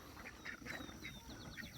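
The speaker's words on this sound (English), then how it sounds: "check out the ducks" Ducks on a chicken egg farm quack in short, scattered bursts, several calls in quick succession at moderate distance, fairly faint over a low outdoor rumble.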